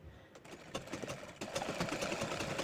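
A sewing machine stitches strips of old cloth into a door mat, its motor whirring with a rapid mechanical chatter that picks up and gets louder halfway through, close by and steady without speech.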